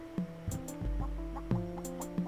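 A chicken in the video game Simmiland clucks repeatedly in short, clear bursts over a soft tonal background hum, alone and fairly close.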